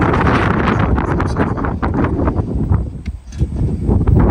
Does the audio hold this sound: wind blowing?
yes